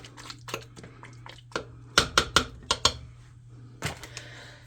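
Stirring a thick Amish stew in a slow cooker gives a series of close, soft clinks and wet scraping knocks in uneven bursts, loudest in a quick run near the middle, with a steady low hum underneath.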